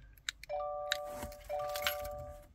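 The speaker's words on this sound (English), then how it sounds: "You're going to hear a chime." A 2023 Subaru Crosstrek sounds its chime during key programming: two close, clear two-tone electronic chimes, mixed with light key jangles and clicks.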